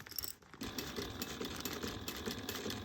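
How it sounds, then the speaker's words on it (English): A sewing machine stitches steadily around the edge of a fabric bag, its needle running in a continuous mechanical rhythm with a light rattle, close and even throughout. "then you're just going to sew around your bag at 1/8 of an inch"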